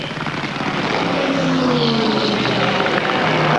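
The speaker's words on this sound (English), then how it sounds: "So Pedregan backs off the throttle." An NHRA funny car engine roars loudly through a drag race run at the 1998 Pontiac Nationals in Columbus, Ohio, a dense, steady distant roar with a pitch that falls as the throttle backs off.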